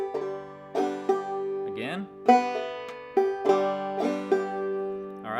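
Clawhammer banjo playing a measure of the tune Waterbound, a steady bouncy run of plucked and brushed notes with a slide, close and clear, with a brief spoken word near the end.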